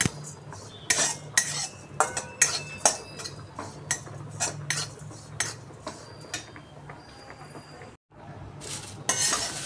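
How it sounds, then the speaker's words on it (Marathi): Curry leaves, cumin and coconut dry-roasting in a pan for curry leaf chutney, with repeated sharp scraping and clinking strokes of a spatula against the pan and a faint crackling underneath, near and alone. "कढीपत्ता पण आपला बघा छान असा खुळखुळ आवाज येईपर्यंत क्रिस्पी असं झालेला आहे"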